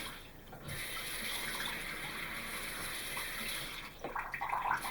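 Water running from a tap onto a Kleenex tissue, a continuous close hiss of flowing water that turns splashy and uneven toward the end.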